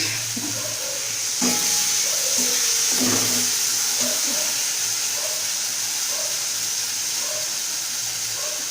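Tomato and turmeric sizzle in a pan for chicken kosha, a steady frying hiss with bursts of crackle and a few scraping stirs, close and continuous.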